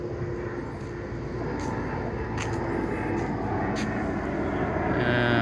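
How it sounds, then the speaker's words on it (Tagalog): A fixed-wing airplane passes overhead near an airport, a broad, steady engine roar that slowly grows louder over a few seconds, with faint background noise and no clear talk. "Or aeroplano. Kasi malapit lang sa airport to."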